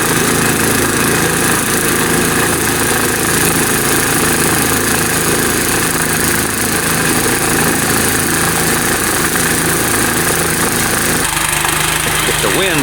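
A snowblower engine runs steadily and loudly throughout, a close, continuous mechanical drone with vibration, heard outdoors while clearing snow.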